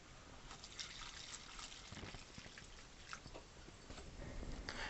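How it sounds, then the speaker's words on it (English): Homemade bourbon trickles faintly through a funnel and coffee filter, a soft continuous liquid seep with small drips, quiet and steady with no talk. "I'm just filtering it through the coffee filter."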